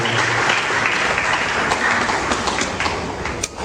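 Applause at a results announcement ceremony, a dense steady clapping from a crowd that carries on evenly for a few seconds.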